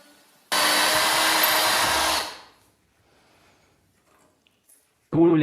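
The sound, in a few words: Chinese 2-in-1 drill tapping a thread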